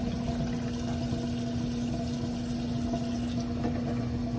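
Running water rinses cut potatoes for fries, a steady continuous wash with a strong constant hum beneath it, even and unbroken throughout at moderate level.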